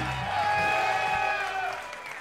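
A comedy club audience applauds and gives a standing ovation as comedian William Montgomery arrives on stage at Kill Tony, steady dense clapping and crowd noise with a band's sustained tones playing over it.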